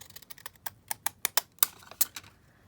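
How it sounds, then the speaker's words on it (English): Zigzag scissors snip through small paper scraps for handmade faux postage stamps, a quick run of crisp, close clicks and cuts in an irregular rhythm, with no voices. "we'll just then trim that down with the zigzag scissors"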